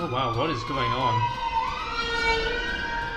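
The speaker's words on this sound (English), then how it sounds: "That's a fire engine." A fire engine siren wails steadily as it passes nearby, its tone rising and sliding across the clip, with a person talking over the start.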